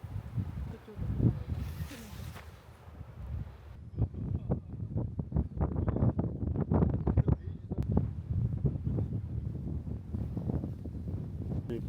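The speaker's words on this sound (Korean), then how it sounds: "이 바람 소리가 심하게 났대." Strong gusty wind buffets the microphone outdoors on Jeju Island, a loud low roar with rumbling gusts throughout, and people talking over it.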